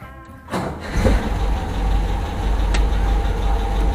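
A 1974.5 MG MGB engine rumbles loudly and close as the car pulls away, the sound rising after a brief quieter start and then holding a steady, throaty drone.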